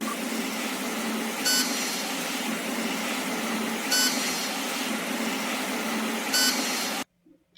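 A buzzer on a microcontroller automatic gate project with an ultrasonic sensor gives three short, evenly spaced beeps about two and a half seconds apart over a constant loud hum, then cuts off.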